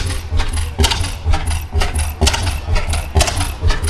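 An antique hit-and-miss engine runs at a county fair farm machinery show, loud and close, with sharp clattering firing beats in an uneven rhythm over a constant low mechanical hum.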